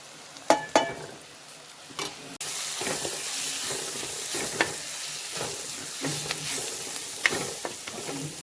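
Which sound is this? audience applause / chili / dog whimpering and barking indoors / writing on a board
chili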